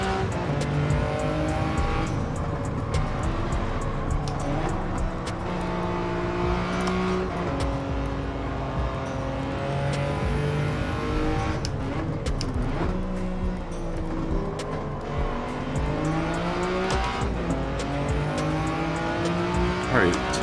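Race cars, including an Acura NSX, in Gran Turismo 7 braking hard and shifting through corners, engines rising and falling with rapid downshifts and brief tire squeal, with a voice talking over the racing.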